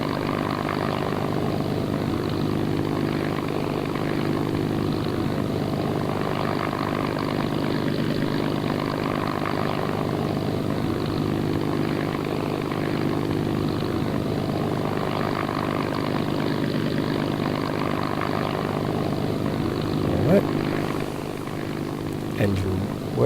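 Simulated Hawker Hurricane piston aircraft engine idling in FlightGear, a steady, loud propeller drone with a throbbing hum that holds throughout, with a brief click near the end.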